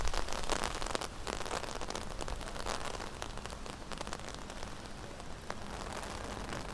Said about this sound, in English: here's the rain coming pretty bad now and the wind's coming on